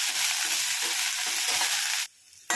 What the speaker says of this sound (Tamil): எண்ணெய் ஒரு ஸ்பூன் விட்டு வெண்டைக்காயை வதக்கி எடுத்துப்போங்க